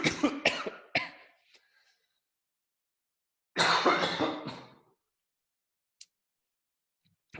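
A person coughs several times in a quick burst, pauses, then lets out a longer rough cough, followed by a faint short sound; close and fairly loud.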